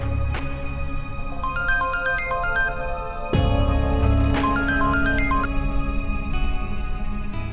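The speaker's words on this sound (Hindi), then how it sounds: "ऑफिस से फोन है।" A phone rings with a melodic electronic ringtone, repeated tonal phrases with echo over a dramatic music bed, loud and close with no talk.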